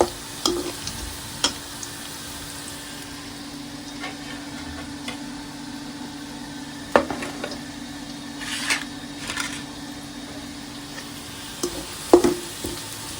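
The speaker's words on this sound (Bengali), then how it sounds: "আর একটু ভেজে নেবো পেঁয়াজটা এখন আমি" Onions frying in a pan at home, a steady close sizzle running throughout, with a few louder clinks and scrapes of stirring scattered across the stretch and no talking.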